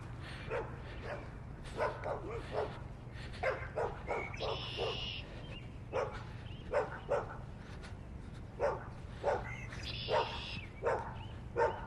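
A dog near a pool barks over and over in short, sharp bursts, with a few higher yips and whines between them against a steady low background hum.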